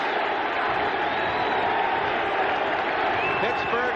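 A stadium crowd of more than 80,000 at a professional football game, the Steelers against the Raiders, roaring in a dense, sustained wall of cheering and applause with no break.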